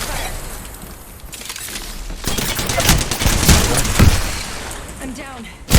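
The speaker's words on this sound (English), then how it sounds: "Opening fire." Gunfire from the game Valorant crackles in rapid, dense volleys that grow louder midway, mixed with sharp impacts and voices talking over the shooting.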